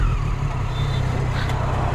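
Triumph Daytona 675R triple-cylinder motorcycle engine while riding, a close, steady low engine drone with wind rush, continuous and loud over the short stretch.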